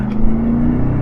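A Chevrolet V8 with AFM/DOD and a collapsed lifter runs close by, a steady loud engine drone that holds a constant pitch through the brief moment.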